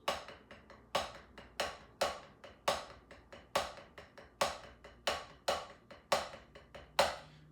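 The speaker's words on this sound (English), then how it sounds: "I took a single stroke roll, right, left, right, left, right, left, right, left, and I played it with accents" A steady single stroke roll on a drum, with regular accented hits standing out above softer even taps in a repeating pattern.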